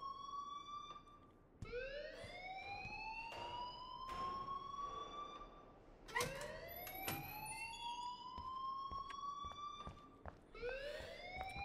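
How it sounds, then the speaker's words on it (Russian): A wailing alarm siren sounds in the game Life is Strange, with loud rising sweeps that repeat every few seconds, overlapping and cycling continuously against a busy background. "И, пожалуйста, вырубите сирену"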